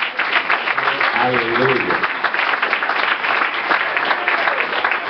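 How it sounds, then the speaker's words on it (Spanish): Congregation applauding church volunteers who cooked, steady dense clapping throughout, with a voice speaking briefly over it. "yo creo que se les regale un aplauso"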